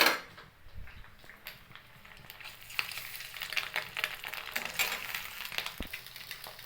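Eggs fry in a hot pan, a steady close crackling sizzle with scattered sharp pops and a brief scrape of a spatula.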